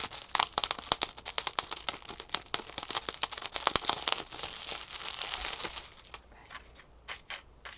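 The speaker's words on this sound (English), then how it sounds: "And of course it has a little bit of bubble packaging here." Bubble wrap packaging crinkles close up with dense, rapid crackling and popping that continues steadily, then thins to scattered, softer crinkles near the end.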